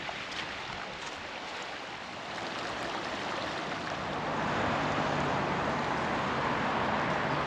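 A river flows near Sinaia in Romania's Carpathians, a loud steady rush of water close by that swells a little louder partway through and holds with no talking.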